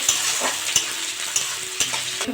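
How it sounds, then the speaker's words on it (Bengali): Crushed garlic fries in hot oil with cumin and dried chilli, giving a loud continuous sizzle punctuated by regular scrapes and taps of stirring. "আমি একটু রসুন থেতো করে নিয়েছি দিয়ে দেবো দিয়ে দেবো ভেজে নেবো"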